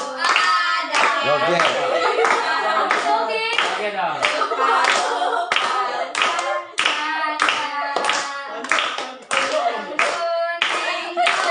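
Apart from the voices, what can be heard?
group clapping hands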